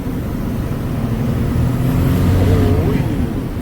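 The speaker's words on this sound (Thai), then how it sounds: "เสียงท่อเงียบหูดีกัน นะเสียงท่อมันก็เงียบ" A Volvo FM12 truck fitted with a Hino E13C 380 hp engine rumbles steadily and fairly loud under way, a low continuous exhaust drone with road noise throughout.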